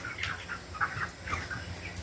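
Young Cornish Rock Cross meat chickens peep and cluck softly in a brooder on a hot day, a few scattered calls over a low steady background hum.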